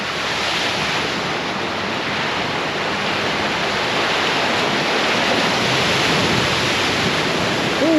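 A Mitsubishi Montero driving through deep water on a muddy trail, throwing a steady, loud rushing wash of splashing water close to the microphone for the whole stretch.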